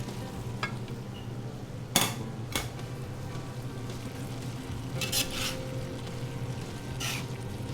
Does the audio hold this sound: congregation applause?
no